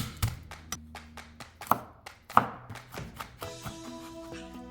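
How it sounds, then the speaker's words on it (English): A knife chops onion, garlic and tomatoes on a cutting board, a series of sharp separate taps at an irregular pace, close up, with music playing underneath. "So you can start off by chopping your onion, followed by your garlic and tomatoes."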